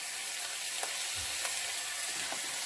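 Beef brisket browns on its last side in a pan on full heat, herbs just added, giving a continuous, even, close hiss of sizzling fat with a few faint clicks and no voices.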